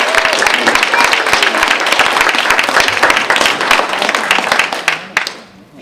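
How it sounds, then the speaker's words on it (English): Loud, close audience applause at a Falmouth Road Race awards ceremony, dense overlapping clapping that holds steady for several seconds before fading quickly at the end. "So one more round of applause."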